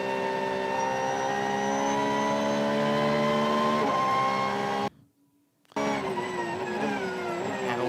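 Onboard a GT race car at Sonoma Raceway during a pro-class GT World Challenge America race, the engine drones loud and steady with falling pitch as it brakes into a corner, cutting out briefly before roaring back.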